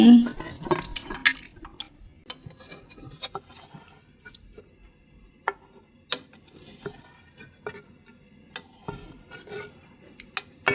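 Boiled eggs stirred in a cooking pan, with sparse metallic clinks and scrapes of a utensil against the pan spaced irregularly over a quiet background, busier at the start.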